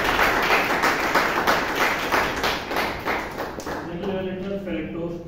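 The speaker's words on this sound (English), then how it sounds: "Round of applause, please." Audience applause at a Toastmasters club meeting in Bangalore: a dense burst of clapping that thins out and fades toward the end, with a voice starting to speak as it dies away.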